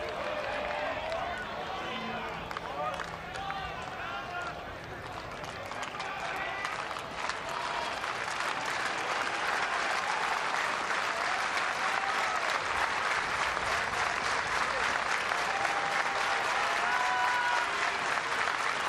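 A dense baseball crowd at a Nebraska versus South Dakota State game roars and claps steadily after a foul ball, broad and sustained throughout, with the swell building toward the end.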